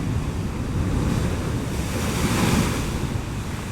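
Powerful ocean waves break and surge against a coral shore on Christmas Island, Australia, a loud continuous roar of surf mixed with wind buffeting the microphone, with no voices.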